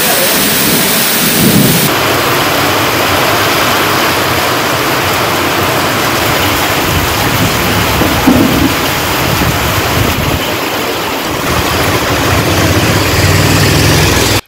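Heavy unseasonal rain pours down in a thunderstorm with strong wind, a loud, continuous roar of rainfall and gusts with rumbling thunder underneath, lasting throughout without voices.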